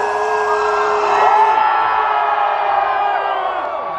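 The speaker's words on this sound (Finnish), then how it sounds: "Bändi saapui lavalle ja yleisö räjähti suosioon osoitukseen." A large concert crowd cheers and whoops loudly as a band walks onto the stage, a dense sustained roar of voices with shrill yells rising and falling over it, close and continuous throughout.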